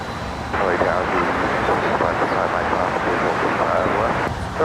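A China Cargo Airlines jet taking off from runway 25 right at LAX, heard as a steady broadband engine roar that rises and holds for several seconds with no voices.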